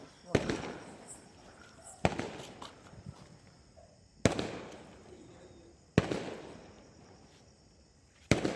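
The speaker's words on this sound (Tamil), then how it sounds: "பெரிய ஸ்கை ஷாட் வெடிக்க போகிறாங்க" Four loud sky-shot firework bursts go off one after another at steady intervals during a Deepavali celebration, each sharp crack trailing into crackle, with people talking softly between them.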